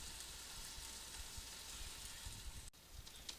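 Chicken seekh kebabs sizzle in a pan over low heat, giving a steady, faint, even crackle and hiss throughout with no talk.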